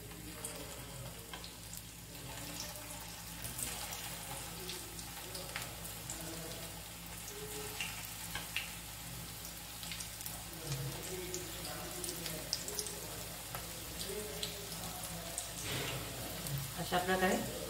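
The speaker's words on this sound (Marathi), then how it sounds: "बघा तेल गरम झालेलं आहे। आता यामध्ये या टिक्की सोडून घ्यायचं आहे।" Poha, rava and vegetable cutlets frying in hot oil, a quiet continuous bubbling sizzle with faint clinks, while someone talks softly over it.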